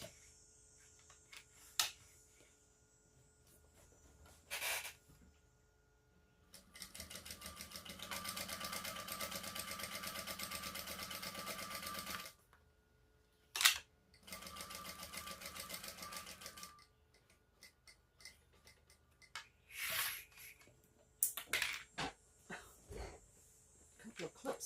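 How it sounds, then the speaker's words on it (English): A home sewing machine top stitching a shoulder bag runs in short bursts and one long steady stretch of whirring, with pauses, clicks and a few quiet handling noises between runs. "then we're going to top stitch all around here, and then I'm just going to baste across the top edge"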